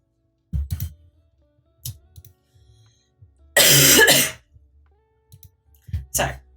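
A person recovering from a cold coughs and clears their throat up close: a few short throaty rasps, then one loud, harsh cough burst near the middle, followed by more brief throat-clearing sounds.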